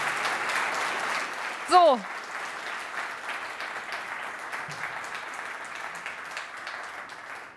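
Steady audience applause at an award ceremony for an innovation prize, a dense crowd-wide patter running the whole time under a brief spoken remark and a short whistle-like sweep near the start.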